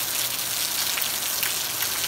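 Heavy March rain keeps falling over a rural canton, a constant close hiss of countless drops on surfaces, loud and uniform with no breaks.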